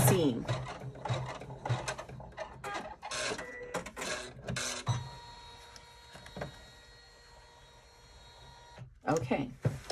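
A sewing machine runs a tack-down seam through lining material on a double zipper clutch, in short mechanical stitching bursts with a rapid clatter, separated by quieter pauses.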